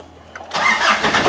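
A 2005 Ford Ranger engine catching: a quiet moment, then the starter kicks in and the motor fires straight into a loud, steady mid-pitched run close by.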